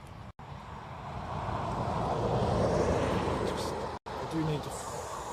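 Airliner taking off at Dublin Airport, an Aer Lingus jet bound for London Heathrow: a broad, steady engine roar with wind noise that swells and holds loud, broken by two brief dropouts.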